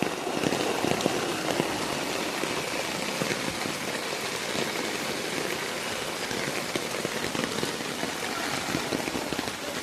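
Heavy rain pours steadily on surfaces during a record downpour amid widespread flooding, a dense, loud, unbroken hiss with pattering drops throughout and no voices.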